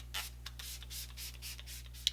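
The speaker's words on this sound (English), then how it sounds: "Grabbing my Smashbox setting spray, we're going to lock everything in place" Smashbox makeup setting spray misted onto a face, close up: a rapid run of soft, hissing spritzes, about six or seven in a steady pumping rhythm, over a faint electrical hum.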